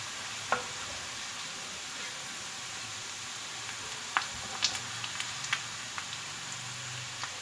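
Onions browning to a light gold in a pan for restaurant-style biryani, a soft, quiet continuous sizzle broken by a few sharp scraping clicks of a spoon stirring at irregular intervals.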